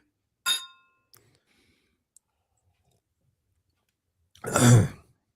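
Glasses clink once together in a toast with a short bright ring, followed by near silence with a faint click or two, then a breathy throat-clearing or sigh close to the microphone.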